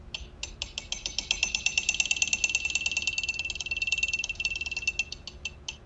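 A 7 kV pulse power charging circuit rattles off a rapid, loud train of sharp electrical clicks, speeding up into a dense buzzing chatter in the middle before slowing to separate ticks at the end.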